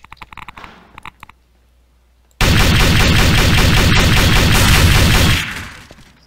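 Sustained automatic gunfire from Garry's Mod Trouble in Terrorist Town, a loud continuous burst lasting about three seconds after a quiet start with scattered small sounds, then cutting off and fading.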